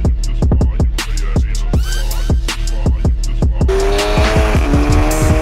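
A BMW 330 revs hard, tires squealing and skidding loudly, with repeated sharp engine bursts and a sustained screech close by.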